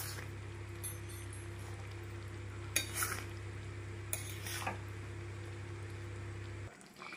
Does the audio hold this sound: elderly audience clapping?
no